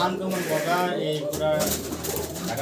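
Pigeons coo softly in the background in a pigeon loft, their low murmuring calls mixed with someone talking nearby.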